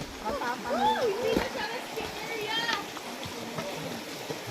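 A river stream on Mount Pinatubo rushes with a continuous, moderate water flow, while voices talk and exclaim over it, some sounding like a child.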